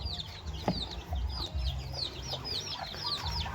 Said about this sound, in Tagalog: Nilabas ko mga inahin.